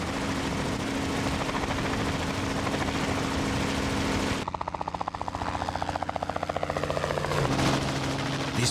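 Helicopter flying low over a crocodile in coastal mangroves, its rotor roaring loud and steady, then shifting into a rapid, distinct thumping chop as it passes close.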